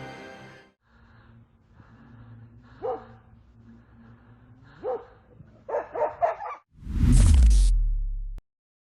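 A dog barks in a forest at night, caught by a trail camera: a few sharp barks spaced apart, then a quick burst, ending in a loud, close, noisy rush of sound.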